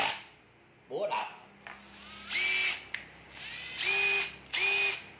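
Cordless battery drill running in hammer mode, heard in three loud, close bursts of buzzing, hammering whir separated by short pauses.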